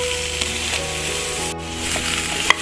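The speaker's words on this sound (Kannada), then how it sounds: "ಕಡಾಯಿಯಲ್ಲಿ ಹಾಕಿ ಸ್ವಲ್ಪ ಹುರ್ಕೊಳ್ತೀನಿ ಸ್ನೇಹಿತರೆ" Okra sizzles steadily as it fries in a kadai, a dense continuous hiss with a few soft stirring knocks and one brief clink near the end; no one speaks.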